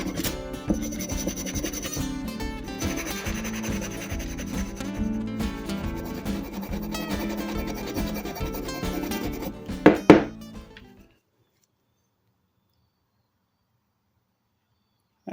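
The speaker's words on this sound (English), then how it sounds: "Let's see if we could scrape some of the old stuff off." Old paint, softened with paint stripper, is scraped off the rusty body of a 140-year-old spokeshave in close, steady strokes for about ten seconds, ending in a couple of sharp scrapes before silence.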